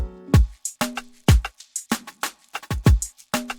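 A drums-only Afrobeat pattern built in FL Studio 20 thumps along with deep booming kicks, crisp hits and short tonal thuds in a bouncing, syncopated groove, loud and dry with no voice.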